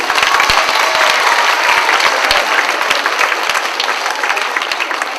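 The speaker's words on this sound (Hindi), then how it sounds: "जोर से उनके लिए धन्यवाद देते हुए ताली बजाएंगे" A congregation of parish members claps loudly in thanks, a dense, sustained burst of applause with sharp individual claps standing out close by, fading slightly toward the end.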